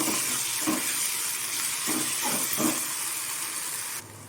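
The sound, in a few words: ginger garlic paste sautéing with onions in pan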